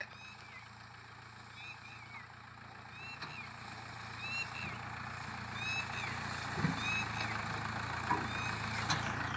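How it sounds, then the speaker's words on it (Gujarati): A fully packed farm tractor approaching, its engine hum and rumble growing steadily louder from a distance, with faint chirps in the background. "તો જોઈ લો આમ આવે છે આપણું ટ્રેક્ટર"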